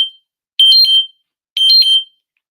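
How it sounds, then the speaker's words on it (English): A phone alarm rings in two short chirping bursts of bright tones, alone and loud, with a brief beep at the start and quiet between bursts. "my phone seems to always do the alarm"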